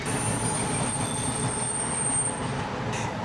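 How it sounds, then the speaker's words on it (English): A Vancouver SkyTrain Canada Line train running on rails, a steady loud rumble of wheels with a high squealing tone above it, heard close and continuous. "Vancouver's SkyTrain system currently operates on 3 lines: the Expo line, the Millennium line, and the Canada line"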